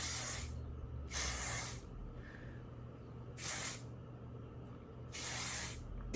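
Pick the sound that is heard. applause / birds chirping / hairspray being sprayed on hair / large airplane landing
hairspray being sprayed on hair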